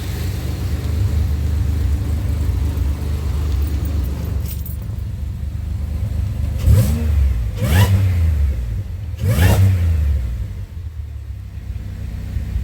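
A Pontiac engine in a snowy, sub-zero garage revs in three sharp bursts over a steady idle rumble, each rise and fall loud and close, with no talking.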